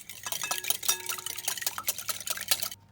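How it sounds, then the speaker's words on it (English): Eggs and oil are whisked together in a mixing bowl, a fast, rhythmic run of light clinks and liquid swishes heard up close without talking, stopping just before the end. "we're just going to whisk this together for a bit"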